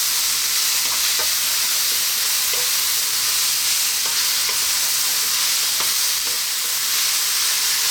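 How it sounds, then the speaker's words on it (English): Vegetables and bean sprouts stir-fry in a hot pan, a loud, constant sizzle broken by occasional scraping clicks of stirring. "I'm now going to add in my bean sprouts. In they go. And 2 more minutes, stirring all the time."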